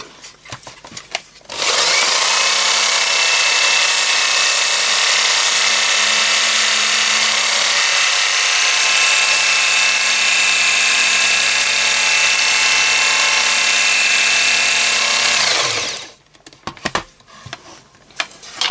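An electric knife sharpener used as a deburring and sanding tool runs for about fourteen seconds, a loud steady high whine with a constant motor hum, starting and stopping abruptly with brief handling clatter before and after.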